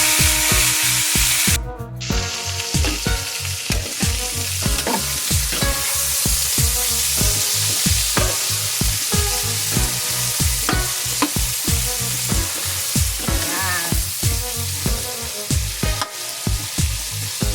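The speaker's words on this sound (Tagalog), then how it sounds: "So ilagay na natin ang mga gulay." Vegetables are stir-fried with browned meat in a pan for ginisang gulay, with loud continuous sizzling and rapid, rhythmic scraping and clattering of a spatula against the pan.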